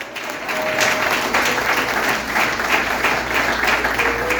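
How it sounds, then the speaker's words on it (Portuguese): A congregation claps during a family church service, with sustained, fairly loud applause that stays full throughout, a few brief tones and voices rising faintly above it. "E aplauso eterno."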